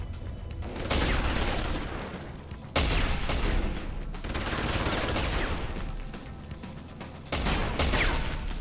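Shotgun gunfire in the video game Deus Ex: Human Revolution: loud, booming blasts in repeated bursts, with heavy sustained rumble and crashing noise filling the stretches between shots.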